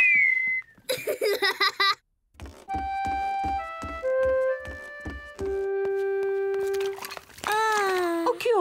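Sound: George whistling in Peppa Pig cartoon

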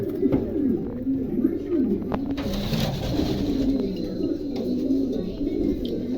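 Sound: pigeons cooing

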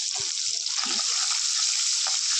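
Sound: sliced onions frying in oil in a pan

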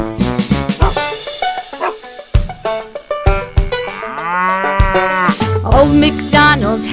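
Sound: cow mooing in a nursery rhyme

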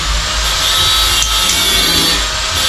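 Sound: cutting a hole with a cutter for carbon fiber skinning

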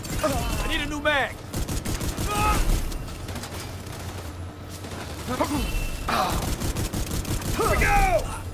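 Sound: gunfire in video game The Division 2

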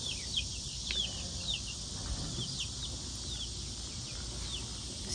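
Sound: young chickens clucking

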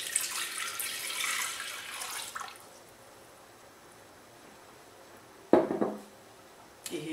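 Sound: cold water poured into a Thermomix

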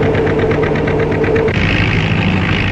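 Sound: oil engine running while plowing soil

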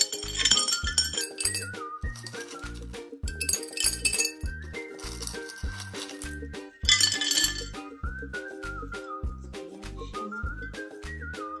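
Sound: stones placed into a glass vase

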